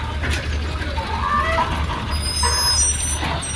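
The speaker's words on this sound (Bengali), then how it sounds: "এই যে বাসটা এখন মাঝখান দিয়ে ঢুকাবে" A bus pulls onto a river ferry amid steady low engine rumble and mechanical clanking, with faint air-brake hisses and scattered higher squeals throughout.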